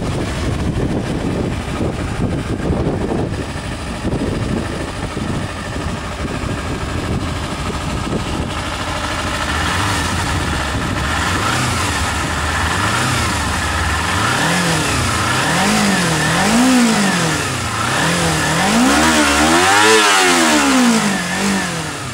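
A 2008 Kawasaki Ninja 250R motorcycle engine idles briefly, then revs repeatedly under throttle, rising and falling in loud close sweeps that grow higher toward the end.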